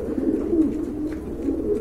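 Pigeons coo with a low, rolling warble, continuous and close, several birds overlapping in a steady murmur.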